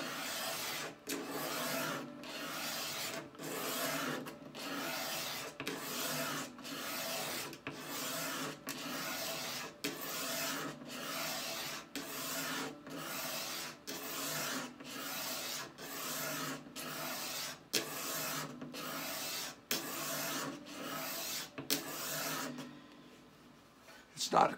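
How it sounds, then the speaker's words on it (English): A hand scraper shaves down the wooden neck of a Harmony Monterey archtop guitar in about twenty regular rasping strokes, each a short, close, gritty pass with a brief gap before the next. "As you're scraping, it gets wider and wider, so you don't get as much each time you scrape, but the resistance gets quite a bit more."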